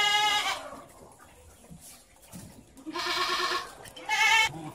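About 22 goats on a small livestock farm bleat in several harsh, wavering calls, a pair early and two more near the end, fairly close with quiet farmyard noise between.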